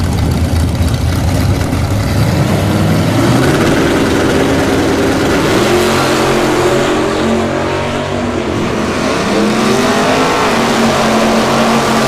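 A Pontiac Firebird launches from the left lane at a drag strip during an NHRA points bracket finale at Bradenton Motorsports Park, engines roaring loud and continuous with revs climbing and shifting throughout.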